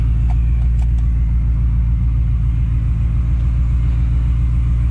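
Supercharged drag racing car engine at a convoy showdown, a steady loud low rumble that holds constant without letup, dense mechanical drone close by with no talk over it.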